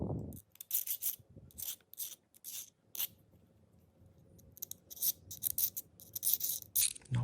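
Short strokes of a file knocking burrs off the back of the hammer of a Pedersoli Liegi screw-barrel derringer, close dry rasping in uneven bursts with brief pauses, quicker and denser toward the end.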